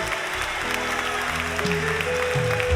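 A church congregation applauds during a service, a steady wash of clapping over sustained music tones from an organ or keyboard.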